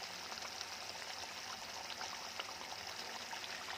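A small amount of water is poured into a pan of fish curry masala that has cooked until the oil separates. It makes a soft, steady trickling wash, fairly quiet and continuous throughout, with no voices.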